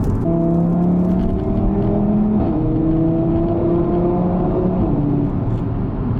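The 2.5 TFSI five-cylinder engine of an Audi RS3 Sportback revs close by, a loud, steady droning tone that climbs and shifts pitch, with an even rumble throughout and no voices.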